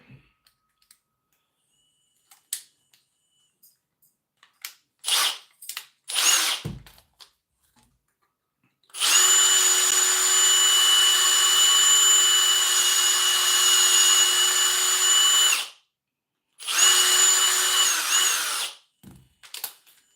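Power drill boring a hole through hard deer antler: scattered clicks and short bursts of the motor, then a long steady high whine of about six seconds, a pause, and another two-second run, loud and close.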